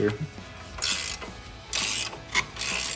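A ratchet loosens the back bolt and nut on the steering damper of a Jeep Wrangler JL, giving three quick, close bursts of clicking with brief pauses between.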